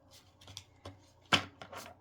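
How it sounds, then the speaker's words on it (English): A tarot card deck being shuffled by hand, several soft riffling bursts and one sharper snap of cards, close and quiet with no talking. "let's shuffle this deck up really good"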